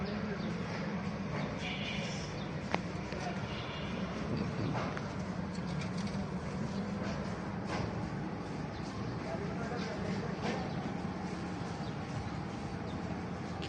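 Pet pigeons coo softly in their enclosure, a low steady murmur that runs under a constant background hum. Nearby voices talk over it.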